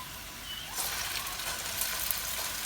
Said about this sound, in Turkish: Bu şekilde bir miktar yağ koyduğumuz tenceremizde arkanın önüne olacak şekilde pişiriyoruz.